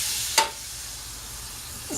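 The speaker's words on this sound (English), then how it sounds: "Swirl that butter around." A pat of butter sizzles in a hot pan on high heat, a soft, steady frying hiss with a brief scrape or clink near the start and another at the end.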